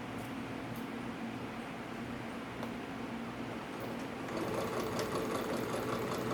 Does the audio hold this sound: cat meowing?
no